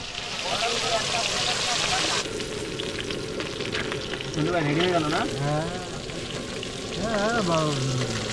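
Steady crackling sizzle of fish frying in hot oil outdoors beside a river in the Sundarbans, continuing throughout while voices talk over it.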